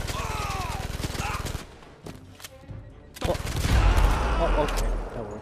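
Gunfire in the VR shooter Blood and Truth, several loud bursts of shots and impacts with music and a voice underneath, a quieter gap in the middle, then heavy rumbling blasts toward the end.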